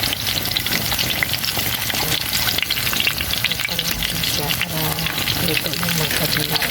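Maruya banana fritters fry in hot oil, giving a loud, dense, crackling sizzle that holds steady and close throughout.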